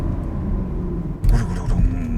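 A BMW X7 M50i's V8 engine is held around 4000 rpm, producing a deep, loud rumble that swells into a sharper burst, then surges again.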